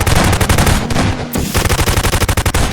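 Rapid bursts of video game gunfire, loud and continuous, with a dense automatic rattle that briefly pauses then resumes in quick repeated volleys.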